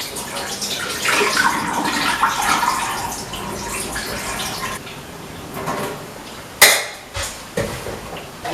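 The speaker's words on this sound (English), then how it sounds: "Refill with some fresh water." Fresh water runs in a steady broadband rush to refill a container soaking salted cod for bacalau, then stops, followed by a few sharp clanks of the container being handled, close and fairly loud with no talk.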